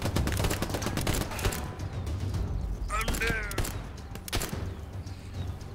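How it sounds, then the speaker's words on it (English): Dense gunfire and artillery rumble in the World War II shooter Hell Let Loose, with rapid bursts and impacts layered continuously and a voice talking over the battle noise. "Artillery's coming in."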